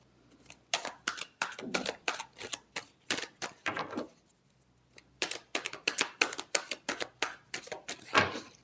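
Tarot cards being shuffled by hand: a run of crisp, papery riffling bursts in quick rhythm, a brief pause midway, then another close, fairly loud flurry of shuffling with no talking.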